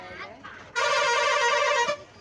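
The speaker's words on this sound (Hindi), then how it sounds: "ड्राइवर अंकल जी हॉर्न बजा के उनको बुला रहे हैं।" A bus driver sounds a long, loud horn blast to call back passengers who have not reboarded. The blast holds steady for about a second, with faint voices before and after it.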